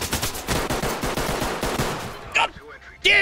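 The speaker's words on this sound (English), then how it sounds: "we don't stop shooting until they stop moving" Pistol fire in the tactical shooter Ready Or Not, a rapid string of close, punchy shots for about two seconds, followed by a couple of sharper clanks and a voice shouting.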